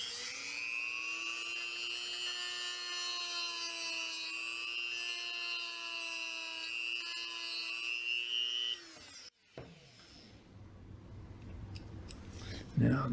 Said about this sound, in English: I'm going to go ahead and trim the height of that trigger lever down just a little more